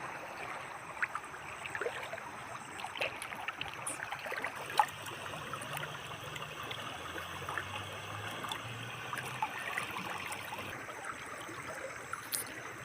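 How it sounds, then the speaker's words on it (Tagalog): A strong river current flows and trickles steadily over a rural swimming spot, a continuous wash of water with faint splashes throughout and no talking. "Malakas yung agos niya."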